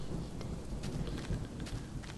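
Steady rain and low rumbling thunder from a video game fill the whole short stretch, a dense close hiss of falling drops over deep rolling rumble, with no talking.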